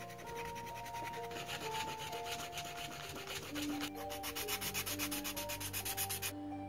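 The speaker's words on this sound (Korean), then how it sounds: "스틱 사포를 이용하여 한 번 더 표면을 부드럽게 다듬어줍니다" Rapid back-and-forth rubbing of a sandpaper stick smoothing the surface of a 3D-pen-made Elder Wand replica, a close, rhythmic scratchy rasp that speeds into regular strokes near the end.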